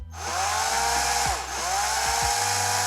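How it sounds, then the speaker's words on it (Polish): A drill running at low speed deepens a hole in a Hot Wheels toy car rivet, making a steady close whine that dips and rises in pitch as the bit loads and eases, with no voices. "No i teraz ponownie na wolnych obrotach po prostu pogłębiamy sobie"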